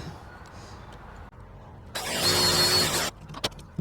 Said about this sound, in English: bore a hole maybe a third of the way down, and then put in my shorter screws that I have.